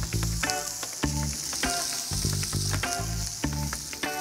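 Fresh corn, cut straight off the cob, sizzles loudly and steadily in a hot pan, with repeated soft clanks and stirring knocks punctuating the continuous frying hiss.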